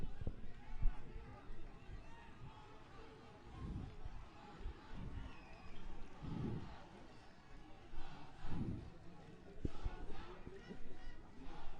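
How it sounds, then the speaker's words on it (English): Crowd chanting at a school rugby match between S. Thomas' College and St. Joseph's College, a distant rhythmic roar of spectators rising and falling in waves beneath a commentator's voice. "you can hear the crowd chanting for the two teams"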